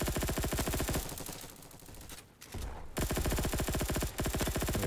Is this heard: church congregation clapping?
no